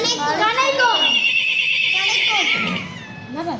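A horse neighs loudly up close, a shrill, wavering whinny that rises and trails off.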